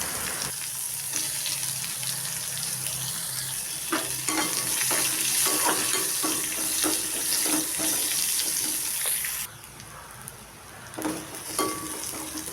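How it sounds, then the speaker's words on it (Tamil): Onion and carrot sauté in a pan, a steady close sizzle with repeated scraping stir strokes, then a sudden drop in the hiss near the end followed by a few more clanks; no talking. "வெங்காயம் கேரட் வதங்கினதும் நம்ம வேக வச்சு கொத்தரங்காவை சேர்த்துக்கலாம்."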